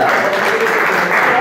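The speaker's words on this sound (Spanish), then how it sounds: "le demos un fuerte aplauso a la JAL, porque ellos fueron los que nos dieron luz verde" An audience at a local civic assembly in Usaquén, Bogotá, breaks into loud, dense applause, a steady roar of many hands clapping close by with no pause.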